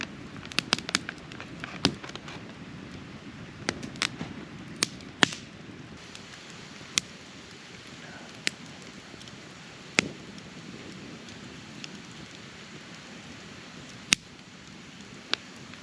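A campfire burns at a cold-weather bushcraft camp, with a soft steady hiss under sharp, irregular pops and snaps that carry clearly throughout.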